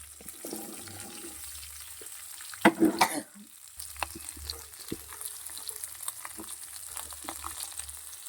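Tomato and beetroot fry in hot oil in a pan for beetroot chutney, a steady close sizzle with scraping stir sounds and a brief louder burst of clattering and splashing near the middle.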